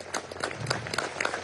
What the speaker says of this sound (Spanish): Quiero pedir un aplauso para la Armada Bolivariana de nuestra República Bolivariana de Venezuela